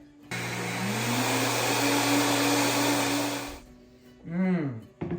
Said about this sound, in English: we are going to go over to the blender and just blend it up just for a little bit